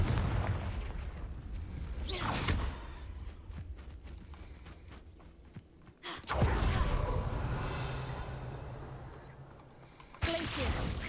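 Fire spell blasts from Hogwarts Legacy erupt in loud bursts, with sharp impacts near the two-, six- and ten-second marks and rumbling magical noise between them, while a voice calls out spell names.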